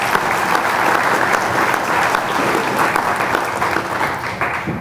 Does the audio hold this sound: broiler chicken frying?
no